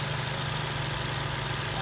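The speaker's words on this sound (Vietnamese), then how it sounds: "Máy nổ chiếc xe này khỏi chê rồi, rất êm." A 2006 Honda Civic 2.0 sedan idles smoothly and steadily, a close, even low hum with a constant pitch and no revving, running alone without voices.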